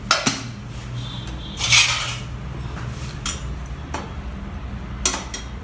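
Metal lid lifted off a pot of steamed vegetables, giving sharp clanks and clinks of cookware, then a brief rattle and a few lighter taps close by, with no voices.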